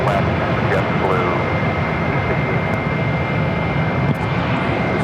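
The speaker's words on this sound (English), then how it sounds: "Alright, we see the 737 departing southbound" A Boeing 737 jet departs southbound from Phoenix airport, its engine roar a steady broad rumble under continuous nearby talk.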